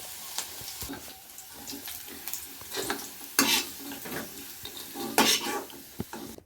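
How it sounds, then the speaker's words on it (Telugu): Dry red chillies, coriander seeds and cumin roast in oil with a soft, uneven sizzle, punctuated by clattering stirring and two louder splashy bursts. "ఎండుమిరపకాయలు అయితే వేసుకుంటున్నా ధనియాలు జీలకర్ర వేసుకొని దోరగా అయితే వేసుకుంటుంది"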